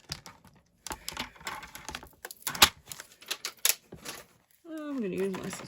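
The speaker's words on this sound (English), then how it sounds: "I'm going to use my scissors." Scissors snip through card stock in a run of crisp, close clicks and short slicing strokes while a handmade card is trimmed by following its edge; a brief voice is heard near the end.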